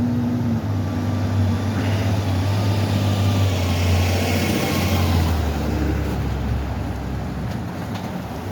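Cars and trucks pass through a traffic-light intersection in Eggleston. A steady, loud wash of engines and tyre roar rolls on without a break, with no talk over it.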